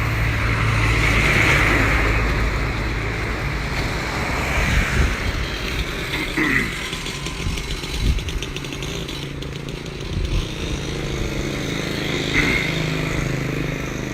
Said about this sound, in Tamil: இது கரூர் பஸ்ஸு.